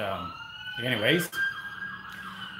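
Emergency sirens wail nearby, their pitch rising and falling, while someone says a word over them.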